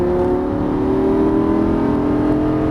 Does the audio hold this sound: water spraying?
no